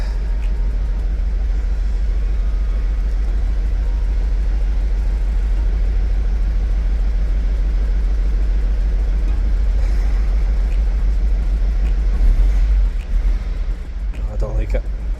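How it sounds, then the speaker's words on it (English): A Mercedes Sprinter van engine with a misfire runs steadily nearby, a low uneven idle rumble with irregular stumbles, and the note shifts briefly near the end. "So yeah, there's a misfire somewhere."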